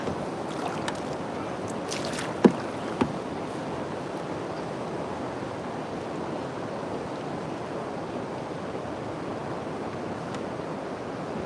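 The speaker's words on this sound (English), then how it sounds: "Paddle up to the front of the island real quick." A boat being paddled toward an island on a catfishing trip, soft water and wind wash throughout with a couple of sharp knocks early on, fairly quiet and distant, no voices.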